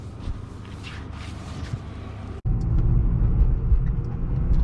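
A BMW E36 driven at night on an empty street, its engine rumbling low and steady; after a brief dip halfway through, the drone swells louder and heavier as the car accelerates, with no talking.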